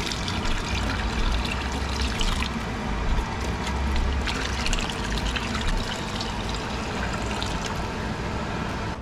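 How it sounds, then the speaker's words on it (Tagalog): Chicken broth poured into a cooking pot with water in a home kitchen, a steady continuous liquid splashing and trickling, close and fairly loud throughout. "Lalagay ko na itong chicken broth."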